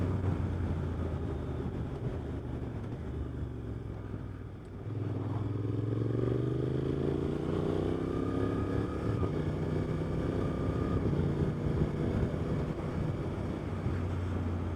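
A 2025 Suzuki GSX-8R fitted with an aftermarket exhaust can drones steadily at road speed, its engine note rising as the bike accelerates, with wind buffeting the microphone throughout.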